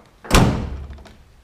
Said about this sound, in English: This also has the slow drop rear tailgate.